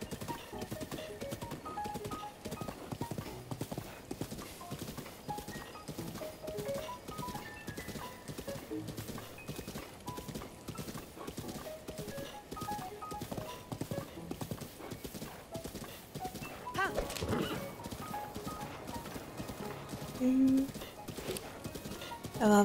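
Rapid, steady clip-clop of a horse's hooves while riding in Zelda: Breath of the Wild, continuous and fairly close, with someone speaking over it and a brief whinny near the end.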